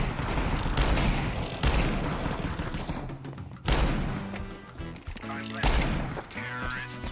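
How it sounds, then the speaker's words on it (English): Rapid bursts of gunfire from Counter-Strike 2 crowd the stretch, loud and dense with several separate volleys and sharp onsets, over a layer of game music and effects. "He stood still while taking all of these shots and didn't die."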